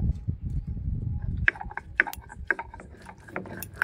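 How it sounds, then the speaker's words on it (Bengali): Poppy seeds being ground into paste for a bitter gourd and potato posto dish, a low steady rumble giving way to a run of sharp knocks and gritty scraping strokes, close and fairly loud with no talk. "আমি পোস্তটা বেটে নেব"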